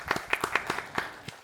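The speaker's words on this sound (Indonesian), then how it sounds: "Boleh minta tepuk tangannya?" Audience applause at a talk show on agentic AI, a short burst of scattered, uneven hand claps, moderately distant and fading.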